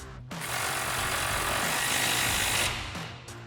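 An impact wrench driving a front bumper tow-hook bolt on a 2016–2018 Chevrolet Silverado 1500, heard up close as one sustained, loud rattling burst of about two and a half seconds, with short starts before and after.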